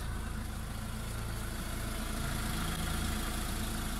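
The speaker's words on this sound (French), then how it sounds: "même le moteur comme il tourne, il était à plein régime" A car engine idles steadily after a hard run at high revs, a constant low mechanical drone with faint vibration and no voices.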